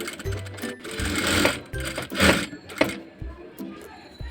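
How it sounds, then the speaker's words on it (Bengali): Sewing machine stitching a line down the middle of salwar fabric, running in close bursts of rapid needle chatter separated by short pauses, with faint background voices. "মাঝখান দিয়ে সেলাইটা করে দিচ্ছি।"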